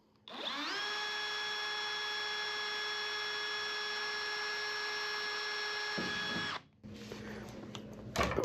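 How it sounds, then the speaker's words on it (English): Power drill boring a rivet hole for a nutplate in a Sonex aircraft engine cowling, a steady high whine held for about six seconds before it stops, close and alone. "Go ahead and drill the first rivet hole."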